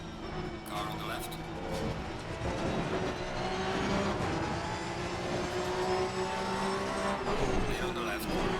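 Race cars roaring around Brands Hatch in Assetto Corsa Competizione, a dense wall of engine drone and tire noise with a nearby car pulling alongside, while someone talks over the racing.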